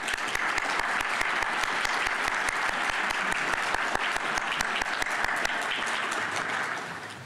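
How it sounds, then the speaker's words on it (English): Audience applause at the 2023 Thomas Laubach Research Conference, a monetary policy event: dense, steady clapping from a large crowd that holds evenly for about seven seconds, then tapers off at the end. "Let's give a round of applause."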